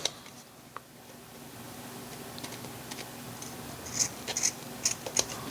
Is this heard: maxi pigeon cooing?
no